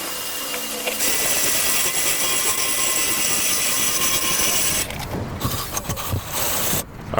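A vacuum cleaner sucks a mouse nest out of the radiator of a 1977 Lincoln Mark V, a loud steady roar that shifts to a rougher, fluttering sound near the end.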